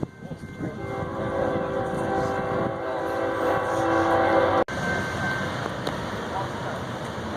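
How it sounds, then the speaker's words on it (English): A train passes close by at a veteran memorial dedication, rumbling loudly with a sustained horn tone for several seconds, then a steady rolling clatter; a voice is heard under it. "we're actually going to pause for the train"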